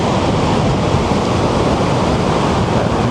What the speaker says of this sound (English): Sound of the waterfall.